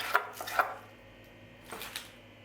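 Arugula and cucumber are chopped with a knife on a cutting board for a salad, giving a few quiet, close, separate taps in two short clusters with no talking.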